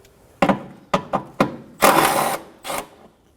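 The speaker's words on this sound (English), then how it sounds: "Now we're gonna be removing the three 10mm bolts that hold the reservoir onto the vehicle." Socket wrench ratcheting out a 10mm bolt holding the washer reservoir on an Acura MDX, a few short clicking bursts followed by a longer rattling ratchet run and one final burst, close and clear.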